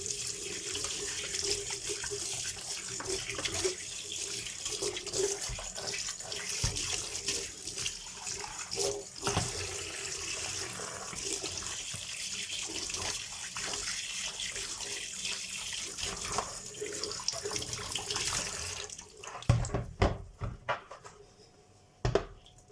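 Range hood filter rinsed under a running kitchen tap: steady splashing water flow throughout, with the stream cutting off near the end, leaving a few drips and clinks.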